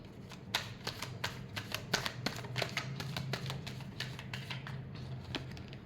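Tarot cards shuffled continuously during a love reading, a dense run of crisp riffling snaps and slaps with no talking.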